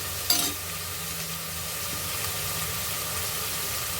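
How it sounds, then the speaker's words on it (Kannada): Oil frying steadily in a pan for a Karnataka wedding-style dum vangibath, a broad continuous sizzle with a brief louder burst near the start and a low engine-like hum beneath. "ಸ್ವಲ್ಪ ಫ್ರೈ ಆಗಬೇಕು"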